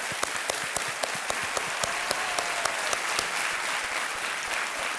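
A studio audience on the game show Kaun Banega Crorepati bursts into dense, sustained applause, many hands clapping at once with a few sharper claps standing out, steady throughout.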